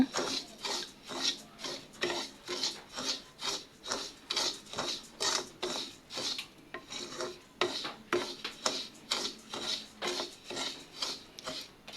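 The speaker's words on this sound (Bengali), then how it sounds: "চাল ভাজা হচ্ছে" Rice dry-roasting in a pan for fish bait, stirred with steady rhythmic scraping strokes about once a second, close and moderately loud, with no talk.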